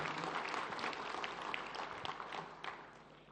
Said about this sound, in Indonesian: kita berikan aplaus bersama kepada para pemenang perlombaan yang dilakukan